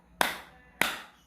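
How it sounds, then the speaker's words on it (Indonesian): Two sharp, separate claps from a primary-school class playing a counting clap game in a lesson, spaced about half a second apart, crisp and close with quick decay and quiet between. "Tepuk 1, tepuk 2,"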